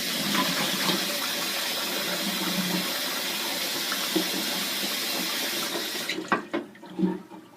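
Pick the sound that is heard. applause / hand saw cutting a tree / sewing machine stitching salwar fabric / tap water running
tap water running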